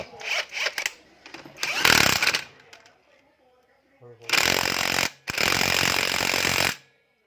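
A power tool, likely an impact wrench, tightens a size 19 nut on a Honda Scoopy-i scooter during a drive belt change. It comes in loud, close, rattling bursts, a short one early and two long ones near the end.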